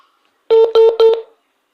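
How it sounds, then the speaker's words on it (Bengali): Phone call tone on an outgoing call: three short, evenly spaced electronic beeps, close and loud, then silence, with no voices. "রিং পড়ছে এবার আর কল ধরবে না"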